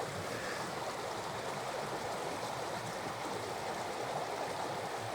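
A small stream flows steadily where fish are expected in a tenkara fishing spot during low summer water. The rushing, hissing water is continuous and fairly close, and no one speaks.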